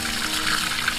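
Water pours steadily from a homemade pressured water pump feeding a lotus farm, making a continuous moderate rushing splash with no pauses and no talking.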